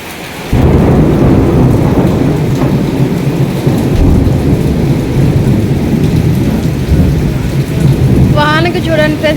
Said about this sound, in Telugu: బాగా వర్షము ఉరుములతో అసలు బాగా ఫుల్ వర్షం పడుతుంది ఇక్కడ